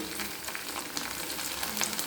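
Steady crackling sizzle of okra frying in hot oil, a dense continuous spatter with occasional louder pops, no voices.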